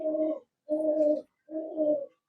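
Teddy pigeons with closed tails cooing inside a cage: three rounded, throaty coos in steady succession, close and clear, with short silences between them.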